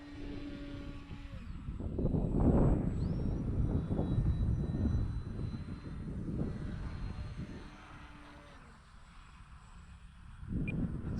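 Carbon Cub S2 light airplane coming in to land, its engine droning and swelling in waves of power changes, fairly close and steady with a quieter dip near the end before rising again, no talking.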